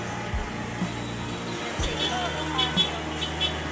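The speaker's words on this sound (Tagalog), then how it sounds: "sobrang ingay dito. So, traffic ngayon." Busy street traffic in Divisoria, with idling car engines rumbling steadily and brief horn toots cutting through, alongside background crowd babble and people talking nearby.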